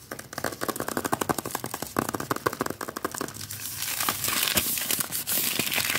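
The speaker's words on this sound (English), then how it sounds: "I like this packaging. It's paper." Paper chocolate packaging being opened, giving steady close crinkling and crackling with rapid irregular rustles throughout, alone without speech.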